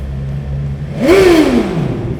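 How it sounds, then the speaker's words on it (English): A BMW S1000XR motorcycle engine idles steadily, then revs sharply up and back down in a single rising-and-falling roar, close by. "Mandatory revving of the engine."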